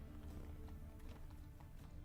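Roach, a horse in The Witcher 3, gallops with a quick, even clip-clop of hooves, faint and muffled under a low rumble of game ambience.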